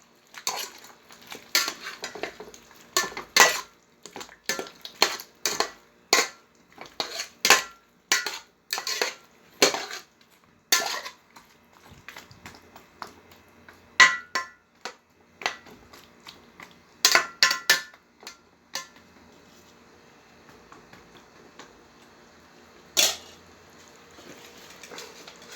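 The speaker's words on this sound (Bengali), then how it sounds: "এখন ভেন্ডি আর আলুটা দিয়ে দিলাম, ভালো করে মিক্স করে নিচ্ছি।" Okra and potatoes being stirred in a cooking pan: a steady run of sharp metal-on-metal scrapes and clinks from a spoon, close and distinct, coming in uneven bursts with short pauses, no voices.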